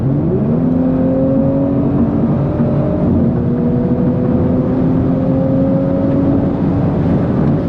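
Stage 2 Audi S4 pulling hard at full throttle from about 80 to 120 mph, a loud steady engine drone with rising pitch that drops at automatic downshifts and climbs again, heard from inside the car.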